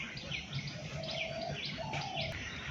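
Birds chirp and call in a rooftop garden in the early morning, several short tweets and a couple of longer whistled notes repeating over steady background noise, moderately near, with no talking.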